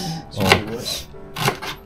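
A knife chops an onion on a board in a home kitchen, with two distinct sharp chops about a second apart heard under people talking.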